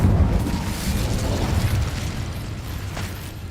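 The Incendio fire spell in Hogwarts Legacy erupts in a loud, sustained whoosh of roaring flame that slowly tapers off.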